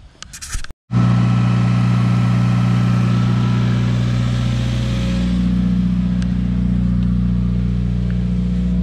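A 2017 Subaru WRX engine running after a DW300C fuel pump install: it starts abruptly and settles into a loud, close, steady idle that keeps running evenly to the end.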